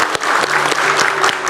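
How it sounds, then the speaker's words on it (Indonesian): Loud, dense applause from a studio audience on a talk show, continuous clapping with a faint held tone underneath. "Kita kasih tepuk tangan dulu dong."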